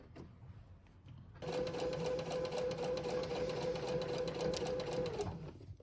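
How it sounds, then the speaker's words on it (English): A sewing machine stitches the edges of a bucket hat together at a steady, fast pace, its whirring motor running loud and continuous for about four seconds after a quieter lead-in. "over to the sewing machine again"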